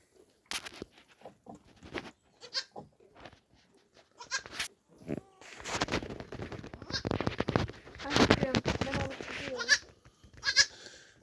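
Newborn goat kids on a village farm give high, thin bleats close by. The cries come in scattered bursts, some faint and some louder, mixed with handling and rustling noises.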